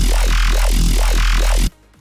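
Dubstep growl bass from the Serum wavetable synthesizer plugin, loud and dense, pulsing in four rhythmic wobbles across the clip before cutting off abruptly into near silence.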